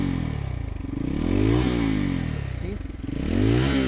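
A Bajaj Pulsar N250 motorcycle engine revs up and down in repeated rising and falling swells, close and loud, with a rider's voice briefly heard over it.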